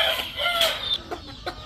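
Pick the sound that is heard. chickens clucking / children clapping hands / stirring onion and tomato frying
chickens clucking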